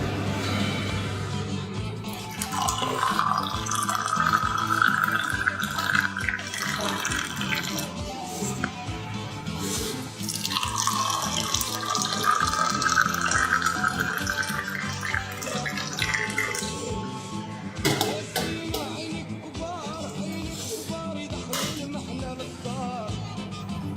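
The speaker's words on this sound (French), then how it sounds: "le sucre doit se mélanger dans notre théière en même temps qu'on verse notre thé et qu'on le remet dans notre théière" Moroccan mint tea with sugar is poured back and forth between glass and teapot, giving long, steady streams of splashing liquid that rise and fall in pitch, close and fairly loud, with no voices.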